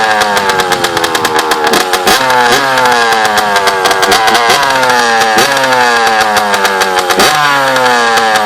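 A Honda CR85 dirt bike engine restarts and revs loudly and close, with repeated throttle blips rising and falling in pitch over a steady buzzing two-stroke idle.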